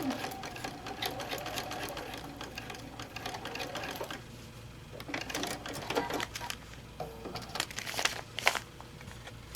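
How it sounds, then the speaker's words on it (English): Sewing machine stitching through paper for foundation paper piecing, a steady fast run of needle strokes with brief stops and restarts, close and fairly loud, with some paper crinkling. "And I'm sewing on the line."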